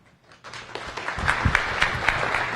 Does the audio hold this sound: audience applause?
yes